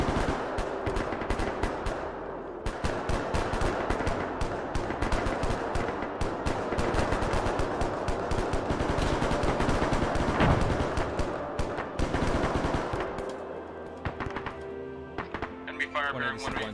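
Sustained machine-gun fire in a multiplayer war video game on a Liberation server, dense rapid bursts running almost continuously for most of the stretch before thinning out, with players talking over the shooting.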